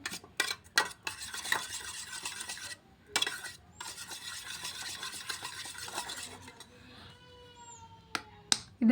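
Homemade moisturizer cream being stirred by hand makes soft, close scraping and swishing strokes in uneven bursts, with brief knocks and pauses between them and a little faint background noise.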